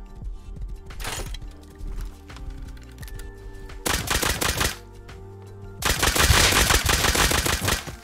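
Gunfire in the survival shooter Rust, several loud bursts of rapid shots separated by quieter gaps with faint clicking, the last burst longest, no voices.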